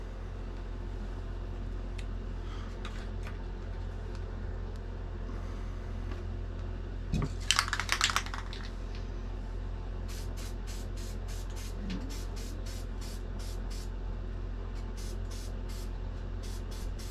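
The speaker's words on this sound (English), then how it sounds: "let's spray the other one" A spray can hisses in a short burst while painting a miniature pine tree, then a string of quick rhythmic rattles follows over a faint steady background hum.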